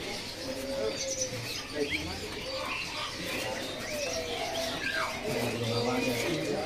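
Songbirds at a bird kiosk chirp and warble in busy overlapping calls, with occasional wing flutters, as someone speaks nearby.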